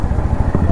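TVS Raider 125 motorcycle engine running loud in the morning, a brief close rough rumble with uneven low pulsing throughout the short burst.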